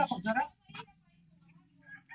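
A native chicken clucks briefly after a short burst of talking, with quieter clucks and faint background sounds following.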